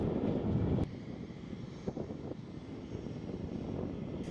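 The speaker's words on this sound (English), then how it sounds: "A smooth landing just a minute later than the plane was scheduled to come in" A fixed-wing passenger airplane's engines drone steadily on the ground just after landing at St Helena airport, a moderate, continuous roar with a brief thump near the start and no talking.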